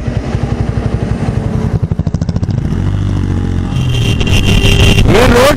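A Bajaj Pulsar N160 motorcycle, the 2024 model, rides along a road, its engine thrumming loud and close with a pulsing beat that smooths into a steady drone, then rises in pitch as it accelerates toward the end.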